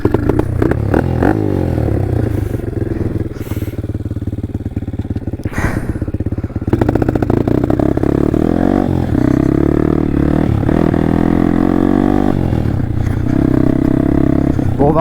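A motorcycle with a stiff kickstarter is kicked repeatedly, giving loud, close clattering thumps and strained mechanical churning that carry on steadily without the engine clearly catching.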